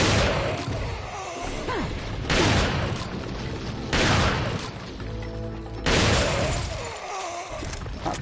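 Heavy shotgun blasts in Resident Evil 4, four loud broadband booms roughly every two seconds, each with a long crashing decay over dense game combat noise.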